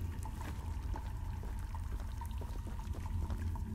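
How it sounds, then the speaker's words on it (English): A toilet flushing in the Choo-Choo Charles video game, a steady rushing, pouring water sound with gurgling that runs throughout at moderate loudness, with no talking. "Someone flushed their toilet just now."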